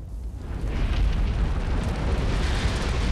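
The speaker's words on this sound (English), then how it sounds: "The cauldron's on fire." A cauldron bursting into fire in Elden Ring: a dense, steady roaring whoosh of flames rises quickly and holds loud and broad for several seconds, with no voices.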